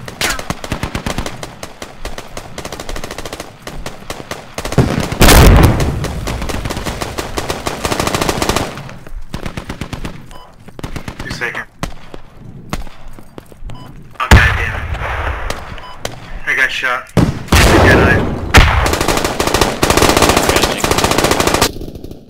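Dense bursts of automatic gunfire and heavy blasts from RPG fire in the tactical shooter Squad, loud and close, with rapid rattling volleys and sharp explosive thumps in several surges.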